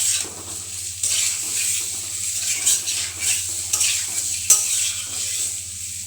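Potato bhaji made from boiled potatoes is stirred and fried in a pan. A continuous bright sizzle runs under repeated scraping strokes of a spoon against metal, steady and close, with no voices.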